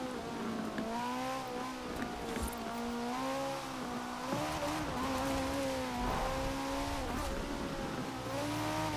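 Front-wheel-drive drift car in Forza Horizon 4 with a loud, steady engine note that climbs and dips through revs and gear changes, plus occasional tire squeal, continuous for the whole stretch with no talk.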